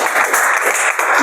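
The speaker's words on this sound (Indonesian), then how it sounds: "Ya, tepuk tangan" Loud, brisk applause from a class of students in a lecture session, a continuous rush of clapping with a brief dip near the end before resuming.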